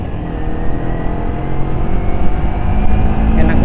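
A Kawasaki Ninja 250 with a carburetor pulls away in first gear, its engine note droning steadily and building slightly toward the end, close and fairly loud, with faint voices underneath.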